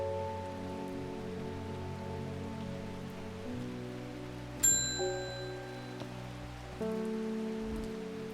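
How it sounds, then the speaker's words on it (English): Steady rain pattering on surfaces in the rainy town of Undermere in a video game, a soft continuous hiss under low game music with a brief chime partway through. "Does it ever stop raining in Undermere?"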